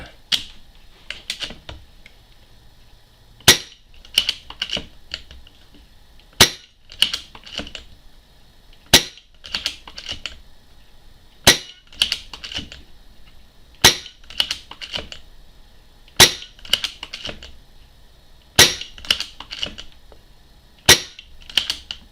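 A Falcon Prairie BM Lighthunter air rifle fires a steady series of shots, sharp loud cracks spaced every couple of seconds, with quieter clicks and handling noises between them and no talk.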